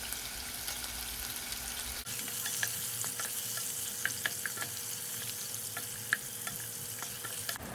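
Salami frying in hot cooking oil for locrio de salami, a bright continuous sizzle with scattered pops and crackles, close and steady from the moment the meat goes in.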